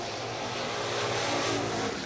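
A Dodge Coronet and a Ford Mustang race down a drag strip, dense, roaring engine noise at full throttle, heard at a distance and sustained throughout.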